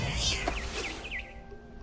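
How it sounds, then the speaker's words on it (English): Short chirps from a barn swallow returning to her nest in What Remains of Edith Finch, several quick rising calls over a soft game ambience, moderately near. "Then I heard chirping outside my window. It was a barn swallow going back to her nest."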